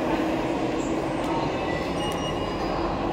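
A metro train rumbles steadily at Noida Sector 62 metro station, a loud continuous rolling roar with faint wheel squeal, close by and constant throughout.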